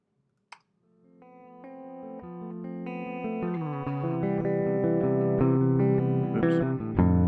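An electric guitar played through an echo effect, its repeats bouncing between two walls of a room: a sharp pluck, then a dense, sustained run of ringing notes with overlapping repeats swelling louder and holding near and clear.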